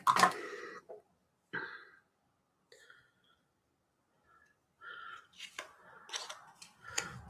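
Scissors cut through ribbon for a faux bow, a few crisp close snips separated by quiet pauses, ending in a quicker run of small cuts and handling noises.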